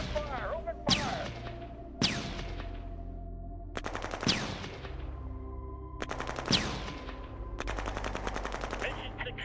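Video game gunfire: sustained bursts of rapid automatic fire, loud and sharp, with heavy booming shots every second or two ringing out over a constant rumble.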